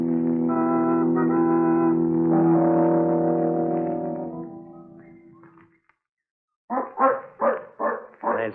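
A dog in an old-time radio drama barks four times in a quick, loud, close burst after a sustained musical passage fades into a brief silence.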